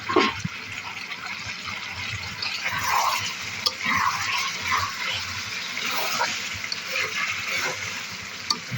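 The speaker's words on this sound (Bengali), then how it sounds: "মাংসটি অনেক সুন্দরভাবে রান্না করছি" Meat cooking in a pan, a steady sizzle of frying with repeated scraping and stirring strokes, close and fairly loud, and no talking.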